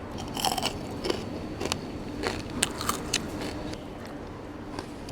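Crisp crunching bites into lightly battered fried chicken with turmeric, several sharp crackles spread over a few seconds, close to the mic.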